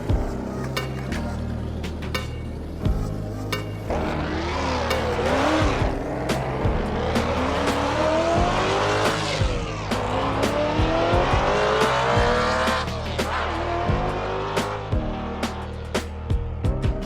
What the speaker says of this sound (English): This is the very, very special Porsche 911 Gt3 Rs 4 litre